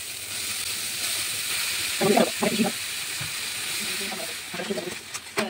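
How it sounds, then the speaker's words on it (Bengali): Cut potatoes and eggplant go into a pan of frying spice paste for a Bengali dried-fish curry: a steady loud hiss and sizzle with a few sharper bursts as the pieces land, and no talk. "এই শুটকি মাছের জন্য আমি জিরবার আলু আর বেগুন কেটে রেখেছি, এটাকে আমি এর মধ্যে দিয়ে দেবো।"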